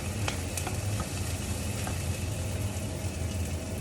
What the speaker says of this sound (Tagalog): Lagyan natin ang ating bawang at saka sibuyas.